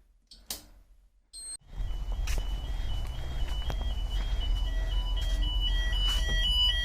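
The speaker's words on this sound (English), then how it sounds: "so now we're going to do a quick sounder check" Fire alarm sounders on an Advanced MxPro 4 panel set to evacuate blare continuously after a couple of brief clicks, a steady high electronic tone over a low rumble, filling the space.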